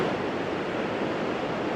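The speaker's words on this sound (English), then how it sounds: "It's, I believe, one of, if not the most spectacular waterfall in Norway" Vøringsfossen, a huge waterfall in Norway, heard as a steady, dense roar of falling water, broad and unbroken, with no voices present.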